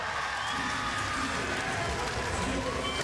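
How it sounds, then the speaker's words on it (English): A crowd of girls screams and cheers at a skateboarding contest, a loud, steady wash of shrieking and crowd noise that lasts throughout. "It's so funny to hear the piercing screams of the girls"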